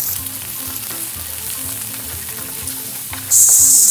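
Beaten eggs sizzling in a hot, smoking pan for tomato egg stir-fry, a steady close frying hiss that surges sharply louder in the final half second as the eggs hit.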